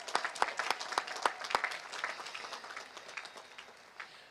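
A graduating class at a college commencement ceremony receives a round of applause from the crowd, dense clapping that begins loud and fades out over a few seconds.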